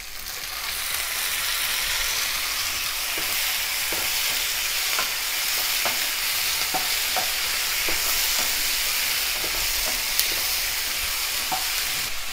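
Chopped onions and two medium tomatoes fry in a hot pan for matar paneer, a loud continuous sizzle with a spoon scraping and stirring through it at irregular intervals; no talking.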